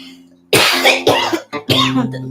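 A series of harsh, loud coughs, about four bursts in quick succession, close up over a faint low hum.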